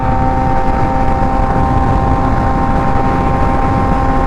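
A car cruises on the highway at low nineties in fifth gear, its engine drone, tonal hum and road rumble loud and steady inside the cabin without pause.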